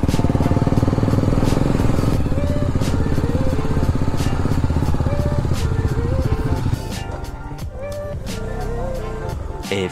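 A motorcycle engine runs loud and close without a break, a steady mechanical drone with slight rises and falls in pitch throughout.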